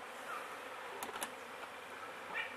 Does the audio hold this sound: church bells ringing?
no